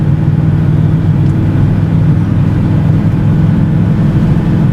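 A Plymouth Belvedere muscle car with a 383 engine and four-speed gearbox rolls down the road, its engine a loud, steady low rumble that holds throughout.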